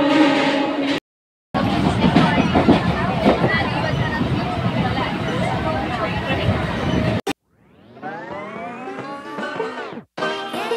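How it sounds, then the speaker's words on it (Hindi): A train pulls into a station with a loud, dense rumble lasting about six seconds, followed by a close voice talking. "ओके, ट्रेन आ गई, कुछ ज़्यादा धीमी नहीं है ये।"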